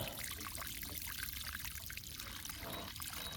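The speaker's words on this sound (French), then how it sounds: "Plutôt que d'arroser massivement, arroser comme ça, c'est plus simple." Water poured into small moat-like trenches around plants in a vegetable garden, a steady continuous trickling stream close by, with no talking.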